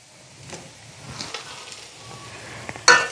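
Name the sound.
fried peanuts added to a sizzling pan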